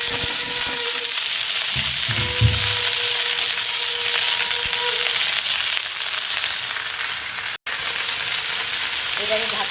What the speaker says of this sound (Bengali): লাল ডাঁটার শাক ভাজা এবারে শাকটা দিয়ে দেবো